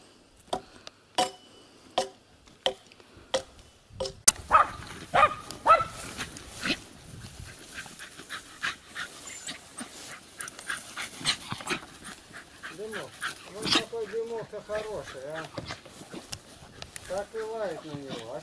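A dog barks in a rural yard, a string of sharp evenly spaced barks starting alone, then continuing irregularly beneath overlapping conversation from several people.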